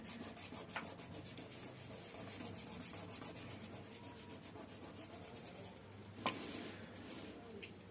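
A finger rubs over pencil shading on paper, making a soft, steady scraping hiss that continues without a break, with one brief louder scuff near the end.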